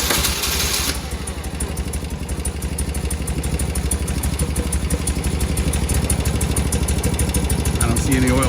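A BMW Airhead motorcycle engine cranks over and settles into a steady, loud idle with a rhythmic clattering pulse that runs close by throughout.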